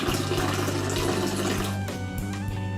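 Just-boiled water pours from a kettle into a cup for tea, a continuous close splashing and trickling stream with a rising fill tone and no talking.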